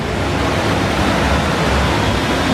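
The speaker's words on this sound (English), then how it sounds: "Got a nice little waterfall here." A small indoor waterfall in a conservatory dome pours with a steady, loud, broad rushing hiss of falling water, continuous and close with no talking.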